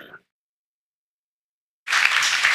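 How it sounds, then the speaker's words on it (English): A burst of applause starts abruptly after a brief sound and a long silence, then continues steadily to the end of the clip. "Give him an applause"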